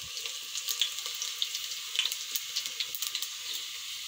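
Cumin seeds frying in hot oil for kadhi, a soft crackling sizzle with tiny irregular pops, steady and close, no voices.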